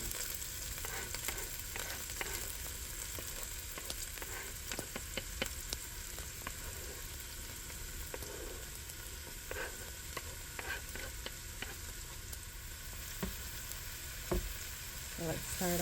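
Onions and garlic fry in a pan for metemgee, a soft steady hiss of sizzling oil with scattered taps and scrapes as they are stirred, fairly quiet and unbroken by voices.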